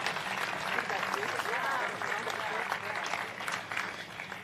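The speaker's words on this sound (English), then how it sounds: "Let's give another round of applause." A room full of people applauds at a ship christening, steady rapid clapping that fills the space without pause for several seconds.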